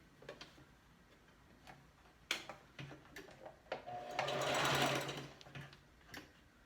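Household sewing machine stitching thick folded cloth masks, a fast whirring run of needle strokes in short bursts, building to one longer sustained stretch near the middle, close and clear with no talking.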